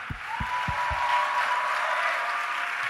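Church congregation applauding together, a steady broad wash of clapping filling the room, with a few low thumps at the start and a faint voice underneath.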